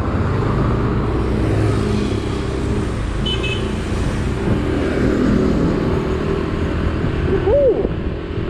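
A Yamaha Mio Aerox S scooter cruising on the road toward Tagaytay, its engine droning steadily over loud wind rush and traffic noise, with brief passing sounds.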